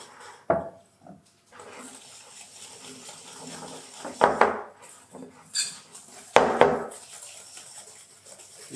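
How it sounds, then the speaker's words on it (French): Sugar being whisked into eggs in a bowl for a homemade strawberry tart's pastry cream: close metal whisk strokes scraping and clinking against the bowl in several separate bursts, with quiet gaps between them. "on a 100 g de sucre qui vont servir à venir blanchir nos œufs"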